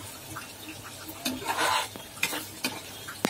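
Tomato sauce with onion puree cooking in a pan while a spoon stirs it, soft sizzling under a series of irregular scraping and clinking strokes, close and moderately quiet.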